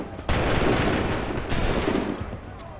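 Two booming volleys of musket fire from a line of soldiers in Assassin's Creed III, each a loud broad blast that decays over about a second, close and forceful.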